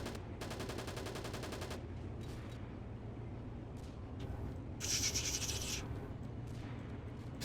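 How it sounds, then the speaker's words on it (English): Bursts of automatic fire from a French submachine gun in the WW2 Online game, a couple of quick rattling strings separated by pauses, with a brighter, louder burst near the end over a low steady background rumble. "This is a horrible submachine gun if I remember correctly."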